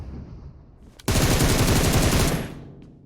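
Automatic weapon fire in the mobile battle royale game PUBG Mobile on the Livik map, from an M762 rifle with a 6x scope: a loud, sustained burst of rapid shots lasting over a second, preceded by quieter game ambience.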